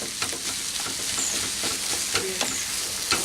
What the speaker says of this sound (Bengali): তো এগুলোকে একসঙ্গে নিয়ে আবারও একটু মিক্স করে নিচ্ছি।